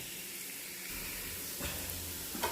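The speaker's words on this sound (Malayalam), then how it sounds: "ഞാൻ ഉള്ളി ഇട്ടിട്ടുണ്ട് നല്ലോണം ഒന്ന് വെന്ത് ഒന്ന് മുരിഞ്ഞിട്ടട്ടെ" Onions fry in ghee with a soft, steady hiss and sizzle in the pan, joined near the end by a couple of faint clicks.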